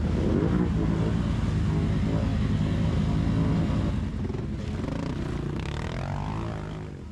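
A red 570 XMR ATV, rear-wheel drive only after its axles were cut and fitted with badly worn Silverback tires, revs hard while stuck in a hole outdoors. A loud, steady engine roar close by eases slightly toward the end.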